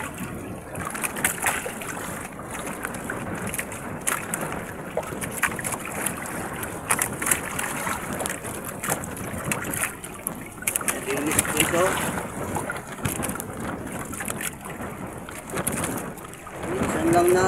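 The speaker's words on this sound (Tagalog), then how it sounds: "Lakas din ng hangin." Strong wind roars and buffets the microphone in a steady, rushing blast, with water sloshing faintly underneath.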